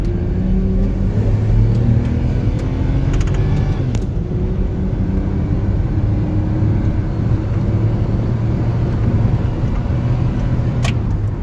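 A Volvo XC90 engine works under load with a slight stutter on a first drive. A loud, steady low rumble and drone is heard from inside the vehicle throughout, with a few faint clicks.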